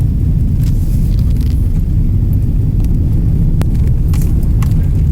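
A car drives down a road toward hot springs, heard from inside as a loud, steady low rumble of engine and tyres with light rattles over it.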